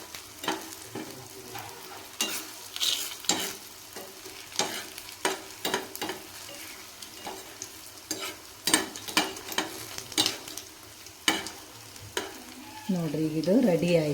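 Potato snacks fry in oil while oil is spooned over them. A steady sizzle runs under repeated sharp scrapes and clanks of a utensil stirring in the pan.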